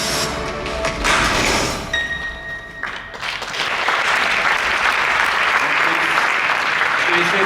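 Broad, sustained applause from an award-ceremony audience greeting a basketball veteran honored for lifetime service to the sport, swelling into a dense ovation after a few seconds, with a voice speaking over the start.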